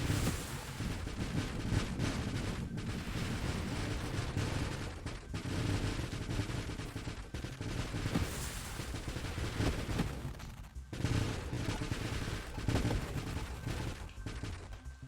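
Swarms of missiles fire in the space shooter Nova Drift, a dense, continuous barrage of rapid bursts and explosions that rises and dips but never stops, with no talking.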